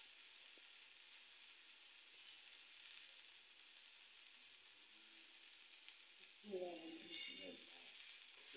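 Chickpeas and potatoes fry in a home kitchen in Khulna with a steady, bright sizzle and hiss throughout, joined near the end by a brief louder burst of stirring or clatter.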